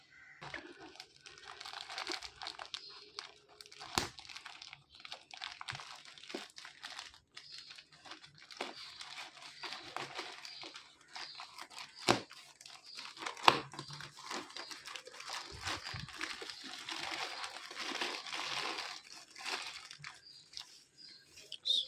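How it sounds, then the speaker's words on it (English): An Amazon parcel holding a walkie-talkie is unwrapped, with dense crinkling and crumpling of packaging, scattered sharp tears and taps, steady and close, no voices. "So let's start to unwrap it."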